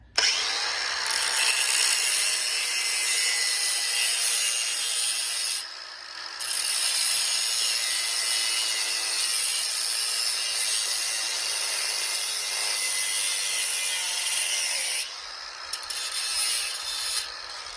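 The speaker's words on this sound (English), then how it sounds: "So here I just have a cordless grinder, and all we're going to do is just take and shorten this bolt down." Cordless grinder cutting a bolt shorter during a boat engine swap, a steady loud high-pitched whine with a brief dip about a third of the way through and a short stutter near the end.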